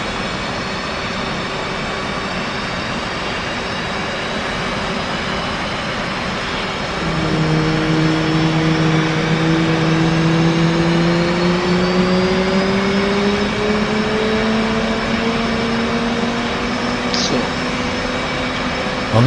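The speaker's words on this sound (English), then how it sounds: "move the left throttle from off to idle by pressing right Alt Home. This will add fuel to the engine and start the igniters" A jet engine starting up in the DCS World flight simulator, first a steady whine, then around the midpoint louder rising tones as the engine spools up and keeps climbing, close and continuous.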